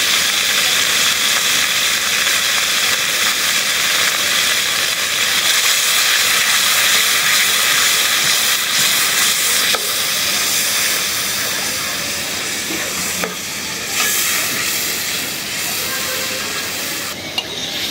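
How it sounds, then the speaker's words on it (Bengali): Ground spice paste hitting hot oil for a katla fish curry, a loud, dense, hissing sizzle sustained without a break, with a few faint clicks of stirring late on. "এখন আমরা বাটা মশলাটা দিয়ে দিব।"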